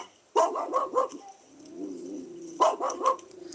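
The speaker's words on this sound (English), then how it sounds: "Yeah, it's dog sounds." Several dogs bark in two clear bursts of repeated barks, close and loud, with a quieter low whimpering or murmur between the bursts.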